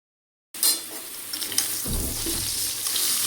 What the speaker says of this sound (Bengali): মাংসের আলুটাকে ভেজে নিচ্ছি।